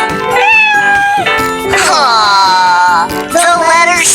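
A cat meows several times in a row, loud and close, with long rising and falling cries and no other sound beneath them.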